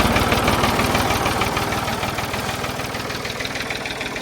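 A Ford 4000 tractor's diesel engine running steadily after starting, a loud, close, continuous knocking rumble with fast regular firing pulses and no talk.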